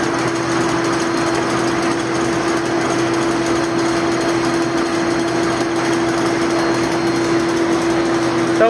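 Folding or creasing machine running steadily, its series of wheels pressing a crease into paper or card, with a continuous mechanical drone and a constant steady hum, loud and close.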